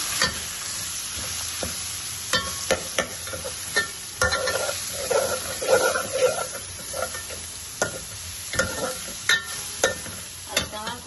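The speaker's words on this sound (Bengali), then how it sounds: "আমি শাকের মধ্যে তেল দিয়ে দিয়েছি রসুন দিয়ে দিয়েছি এখন শাকগুলা ঢেলে দিলাম" Radish greens sizzling in hot oil with garlic, a steady fry hiss broken by repeated sharp scrapes and clacks of a spatula stirring the pan, fairly close and with no talk.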